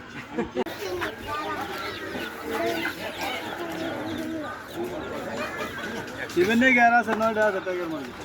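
Desi and Black Tiger chickens cluck and squawk close by under steady talking voices, with louder overlapping chatter near the end.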